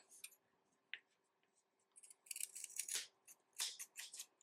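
Scissors snipping excess crochet cord on a braided macramé-style keychain, several quiet, close, crisp cuts scattered over a few seconds, mostly in two clusters near the end.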